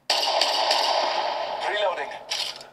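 Gunfire from the shooter game Apex Legends, played on a phone, comes as a loud, sustained rattle of bursts, trailing off near the end before a short renewed burst.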